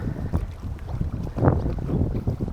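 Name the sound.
strong wind at sea on a sailboat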